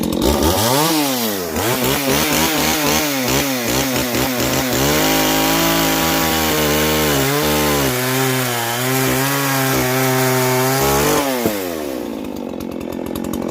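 A chainsaw cuts into a log, its engine revving and dipping repeatedly as the chain bites and drags through the wood, loud and close, ending as the saw eases off and falls quieter.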